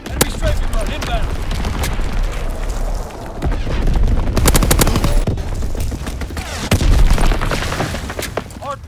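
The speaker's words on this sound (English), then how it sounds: "Enemy strafing run inbound." Enemy aircraft strafing run in the World War II shooter Call of Duty: WW2, dense rattling machine-gun bursts and booming impacts, loud and close, with a game announcer speaking at times.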